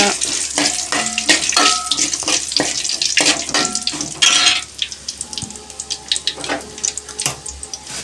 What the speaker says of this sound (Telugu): అల్లం వెల్లుల్లి వేసి తర్వాత ఇంకా ఎండుమిర్చి సో ఇవన్నీ వేగాక